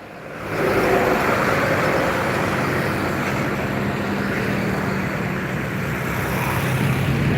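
Heavy road traffic of buses and trucks on the Jalan Lintas Timur highway near Palembang, a loud continuous engine and tyre roar rising in the first second and holding steady, with a low engine drone underneath.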